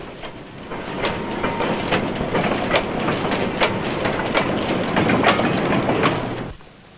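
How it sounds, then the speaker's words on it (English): Insulated railway freight vans rolling along tracks at the London docks in the 1950s, a steady broadband rumble with repeated rhythmic clicks from the wheels that carries on for about six seconds before cutting off abruptly. "Specially insulated railway vans take supplies direct from the ship's side or the cold stores to all parts of the kingdom."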